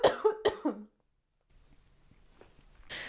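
A person coughs several times in a quick cluster, close and loud, followed by quiet room noise, with no talk.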